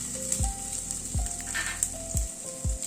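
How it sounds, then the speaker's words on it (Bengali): Parboiled potato strips with salt and turmeric fry in hot oil, giving a steady close sizzle broken by four regular low thumps from the pan being stirred or shaken. "নুন হলুদ দিয়ে আলুটাকে একটু ভেজে নিচ্ছি।"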